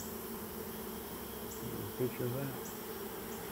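Honey bees buzz close around a beekeeper's hand after an evening of working hives, a steady droning hum throughout, with a brief spoken remark midway.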